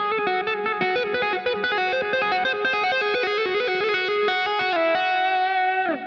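A new Fender Player Plus Stratocaster electric guitar played with fast tapped notes through distortion and chorus effects, a continuous bright run of ringing, sustained tones filling the whole stretch with no talking.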